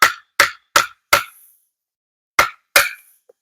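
A combat knife blade being hammered down through a wooden dowel: four sharp, close whacks in quick rhythm, a pause of about a second, then two more blows.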